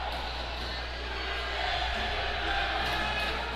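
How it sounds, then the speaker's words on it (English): A crowd at a college ice hockey game between Embry-Riddle and FAU keeps up a steady, dense roar of cheering after a roughing penalty call. "But the Embry-Riddle crowd loves it."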